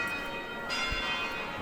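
Church bells ring at the Logroño town hall on the Espolón, a soft distant chime heard faintly over the ambient hum of the town centre.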